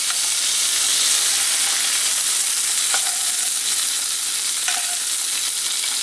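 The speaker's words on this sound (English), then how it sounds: "Gotta sear the other side." A pork chop glazed with maple and Dijon sears in a hot pan, giving a steady, loud, close sizzle with a few faint clicks, and no one speaks.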